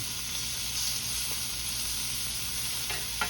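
Thin-cut fish pieces sizzle steadily in a hot pan, a dense continuous frying hiss with faint scrapes and clinks as the pieces are moved around.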